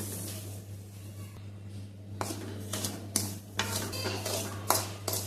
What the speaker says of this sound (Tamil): இந்த ரவையை இப்ப வறுக்க போறோமா